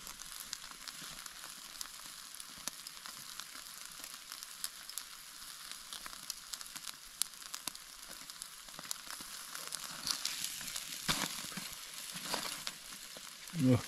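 Tomahawk steak cooking over a campfire, sizzling and frying softly with faint crackles, a steady quiet hiss that swells slightly near the end, with no talking.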